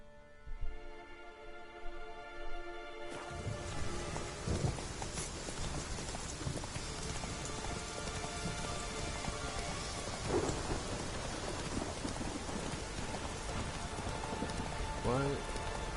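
Steady in-game rain with rolling thunder in an open-world fantasy game, a continuous wash of downpour after a brief quieter opening, with occasional louder thunder swells and faint horse hooves underneath.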